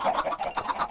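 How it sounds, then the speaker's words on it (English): Minecraft chickens clucking on a water-world superflat survival map, a quick run of soft, repeated clucks packed into about a second, with no talking. "Now let's kill off most of the adult chickens"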